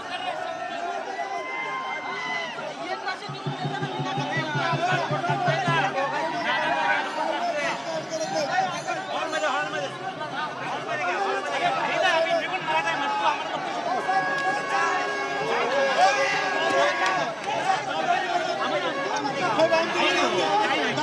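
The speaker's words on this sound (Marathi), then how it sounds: "मात्र मोठ्या प्रमाणामध्ये गर्दी झालेली आहे" A large crowd of Maratha protesters packs CSMT railway station, a dense steady babble of many voices with shouts rising now and then, close and continuous throughout.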